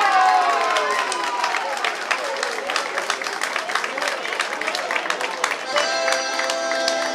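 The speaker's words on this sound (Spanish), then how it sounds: "Los aplausos fuerte ahí para las dos parejitas que quedaron" An audience claps loudly and steadily for the two couples chosen in a zapateo dance contest, dense applause filling the room with a voice briefly emerging near the end.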